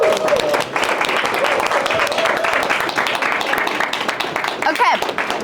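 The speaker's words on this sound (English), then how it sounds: "Give them a round of applause" A crowd applauds steadily, with dense clapping throughout and a voice briefly rising over it near the end.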